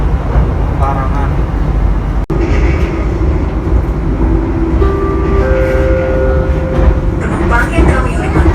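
Inside the Kaligung passenger train on the rails near Pemalang, a loud continuous rumble of wheels and carriage runs throughout, with a brief sharp click and faint tonal squeals over it.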